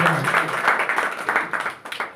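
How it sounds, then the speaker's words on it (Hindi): Loud applause from a gathered audience honouring Ram Narayan, steady dense clapping that holds for a couple of seconds and then starts to thin toward the end. "राम नारायण भैया के लिए जोरदार ताली होनी चाहिए"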